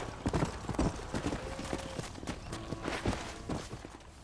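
Horse hooves clip-clop in a steady walking rhythm in a Western ranch video game, close and distinct, with occasional faint tack and ambient sounds between the hoofbeats.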